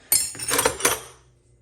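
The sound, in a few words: vintage metal wrenches clinking while handled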